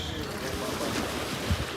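Steady broadband rumble of wind and water noise at the back of a ferry boat, a constant loud wash with a brief low thump near the end.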